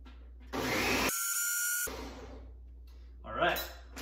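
A Ninja blender whirs loudly for about a second while blending a large plant-based smoothie, a steady motor roar that cuts off abruptly and is bracketed by shorter grinding bursts.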